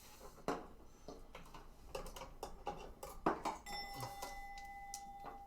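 A pinball machine bell being tested during repair of a broken machine rings in several sharp metallic strikes amid clattering handling noises, ending in a sustained ringing tone, fairly faint and close.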